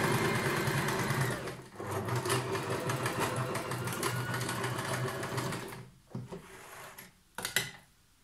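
A sewing machine stitches the shoulder seams of a pareo garment, a close, steady rapid needle chatter running for about six seconds, then brief stops and short bursts of stitching.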